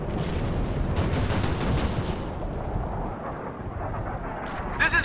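Heavy gunfire in the military shooter Operation Flashpoint: Red River, a continuous loud barrage of overlapping shots and booming impacts that eases slightly toward the end, with radio-style voices mixed in.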